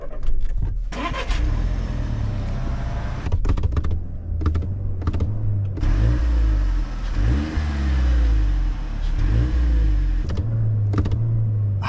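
An Audi A1 engine cranks and catches, then revs up and down in several loud surges, with clicks and clatter in between.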